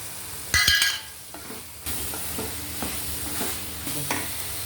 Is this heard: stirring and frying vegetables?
yes